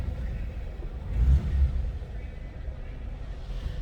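A 1948 Plymouth Special Deluxe Coupe engine, push-button started, rumbles at a low, steady idle, swelling briefly as it catches, then settling into a smooth, even run.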